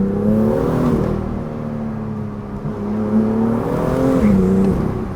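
A BMW M2 pulling hard at full throttle, its engine note rising steadily through the gears with a brief dip at a shift, heard from inside the car without any talk.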